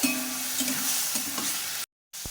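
Turmeric, salt, cumin and ginger being stirred and sautéed in a pan, with a steady sizzle and scraping that runs for nearly two seconds, then breaks off into a short silence before a brief final scrape.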